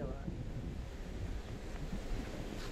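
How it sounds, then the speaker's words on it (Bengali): Wind blowing across a rooftop on a monsoon morning after rain, a steady, loud rushing buffet with a low rumble and no pauses throughout. "এত সুন্দর হাওয়া দিচ্ছি, আলাদাই শান্তি এটা।"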